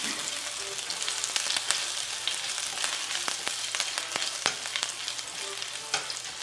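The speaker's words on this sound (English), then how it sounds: "And we're going to add the ginger. Then get it light brown." Ginger sizzles in hot oil for kung pao chicken, a dense crackling hiss with scattered sharp pops and stirring taps throughout.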